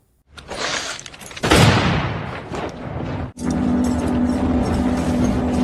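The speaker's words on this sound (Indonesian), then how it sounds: "Mamang Glass mendengar dentuman senapan." A sharp, loud rifle crack bursts out after a short rumble in an action film, followed by echoing noise and a sustained mechanical drone, like a gunshot ringing out in a noisy scene.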